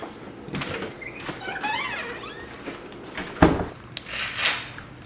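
An indoor door is pushed shut with a light squeak and a single firm thud near the middle, followed by rustling and a brief muffled voice in a quiet room.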